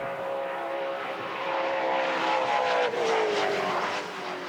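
A Toyota 86 race car fitted with a 5.6-litre Nissan VK56 engine howls past at a time attack event at Sydney Motorsport Park, its tone climbing, then dropping sharply as it passes.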